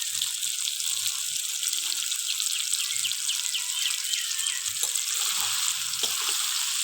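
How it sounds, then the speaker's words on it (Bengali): Sugar and salt stirred in a hot frying pan give a steady, bright sizzle with a few soft scrapes of the spoon, close and continuous, no voices. "চিনিটা দিয়েছি, এবার নুনটা দিয়ে নাড়াচাড়া দিতে হবে"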